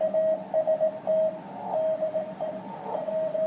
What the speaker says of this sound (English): I just loved the sound of well-transmitted CW, and of course W1AW does it perfectly.